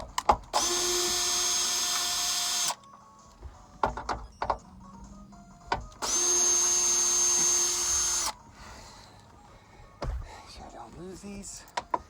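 Power tool removing bolts inside a Jeep Wrangler JL Rubicon, two sustained loud whirring bursts of a couple of seconds each, separated by quiet handling clatter and soft talk.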